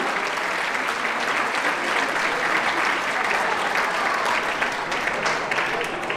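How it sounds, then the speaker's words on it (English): Steady, dense applause from a seated crowd at the 20th annual RAINE Foundation charity celebration, a loud and even roar of clapping that holds without a break from start to finish. "So please, round of applause to you."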